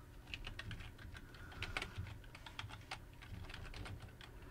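Quick, uneven keystrokes tapped on a computer keyboard while entering CSS code, a steady stream of light clicks and clacks close to the mic with a low background hum.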